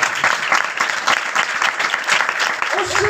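A church congregation at an Urdu sermon claps loudly and steadily throughout, a dense crowd of hands with a voice briefly heard near the end.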